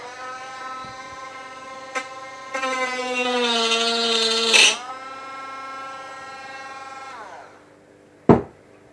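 A round pumice stone grinds against a carbon carp-fishing pole kit, making a steady, loud, whining buzz with a tonal ring that rises partway through and stops abruptly, bracketed by a few sharp knocks.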